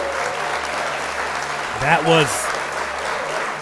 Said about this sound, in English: It's a round of applause for you for being here,